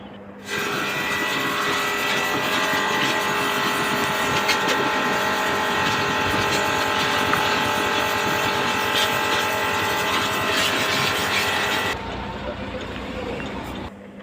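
A dirty motorbike is cleaned at a wash station, with a loud, steady, close rush of spray and machinery running almost without a break for about twelve seconds before dropping off.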